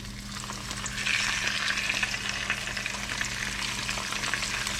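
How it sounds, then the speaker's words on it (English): Breaded red ear fish sizzles and crackles steadily in a hot pan, a close, continuous frying hiss with no one talking. "Ooh, you hear the sizzle?"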